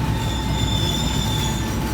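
Argo Wilis passenger train cars rolling along the track toward Bandung, a loud steady rumble with high wheel squeal ringing over it, close and continuous without speech.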